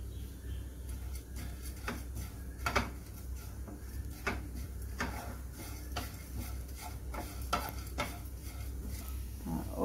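Chana dal and moong dal dry-roasting in a hot pan, heard as irregular light scrapes and taps from stirring over a low steady hum, close and fairly quiet, with no voices.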